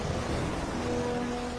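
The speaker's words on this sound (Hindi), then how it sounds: "भयानक लहरें किनारे की इस नर्सरी तक आ रही हैं" Stormy sea waves surge onto the shore near a beach nursery of young sea animals, a steady broadband roar of surf with a faint low tone running through it, no voices.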